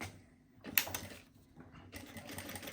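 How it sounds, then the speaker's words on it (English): Jack A4F industrial electronic lockstitch sewing machine stitching in short, quiet bursts, a close mechanical whir with a sharp click near the start and a pause before it runs again. "We'll now show you a simple demonstration of the machine sewing."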